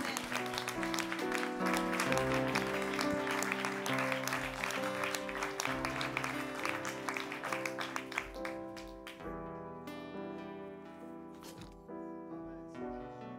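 A church congregation applauds and cheers, with steady clapping blended into loud organ and keyboard worship music that continues throughout.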